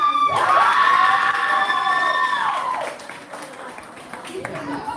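A debate audience cheers and claps for the opposition side, with high shouts and whoops rising over scattered clapping and then fading into murmurs after a few seconds.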